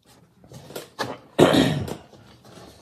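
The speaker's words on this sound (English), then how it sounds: "I still have my COVID cough." A single harsh cough, lingering after COVID, bursts out loudly after a few quieter breathy sounds, then fades into soft background noise.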